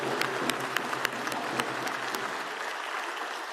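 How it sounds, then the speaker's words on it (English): A crowd claps at an event announcing a Major League Soccer expansion franchise for Charlotte, with dense, steady applause and sharp individual claps standing out near the start, then thinning toward the end. "Now, that's worth a hand clap."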